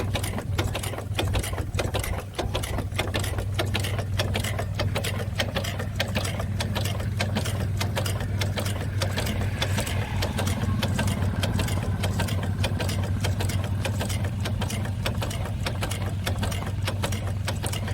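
Antique hot air engine running at a gas engine and tractor show, giving a steady, fast mechanical chatter over a low continuous hum, close and even throughout.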